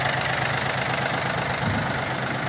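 A Yanmar AF-22 Japanese mini tractor fitted with a rotary tiller idles steadily and quietly nearby, its even engine hum continuous and unchanging, with no talk over it.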